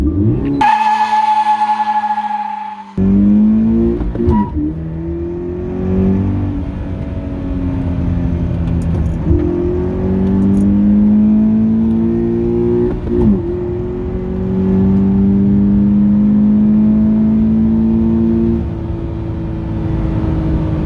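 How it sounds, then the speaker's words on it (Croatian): A Toyota GT86 sports car drives hard. Its engine revs loudly and closely, rising and falling through repeated climbs in pitch, with a brief tire squeal near the start. "Toyota GT86, ukratko, najbolje auto koje sam vozio do sada"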